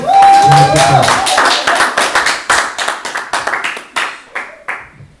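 A church congregation applauds to acclaim the Lord, loud and close: dense clapping that starts strong, then thins into scattered separate claps, with voices heard over it near the start.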